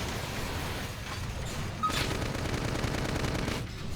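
Rapid gunfire in combat in the video game Xenoblade Chronicles X Definitive Edition: a dense, continuous roar of shots with bursts and booms layered over game noise, steady and loud throughout.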